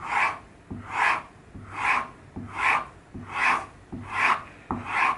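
A steel chisel held in a vise is drawn backwards across a sharpening stone, giving six even rasping strokes in a steady rhythm, close and clear with no talk.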